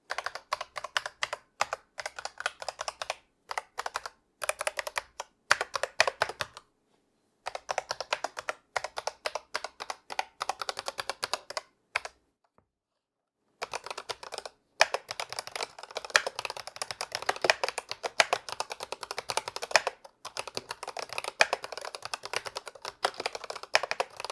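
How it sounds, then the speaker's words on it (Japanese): Rapid, steady keystrokes on a Razer Huntsman V2 Analog optical keyboard with a magnetic wrist rest, typed alone in bursts broken by two short pauses. "まずはキーボードのタイピング音を聞いてみましょう。"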